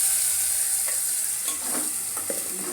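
Garlic and neem leaves fry in a pan with a loud, constant sizzle close by. Occasional clicks and scrapes come from stirring, and there is no talk.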